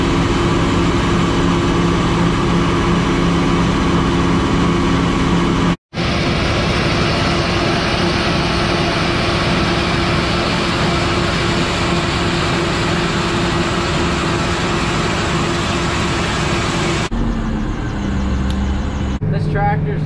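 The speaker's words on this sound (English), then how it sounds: "This tractor's just sitting here in neutral. That's running about 2050 RPMs, it looks like." Case IH 7120 tractor idling in neutral at about 2050 RPM while shelling high moisture corn, a loud, steady low engine drone with a brief cutout and a changing machinery tone near the end.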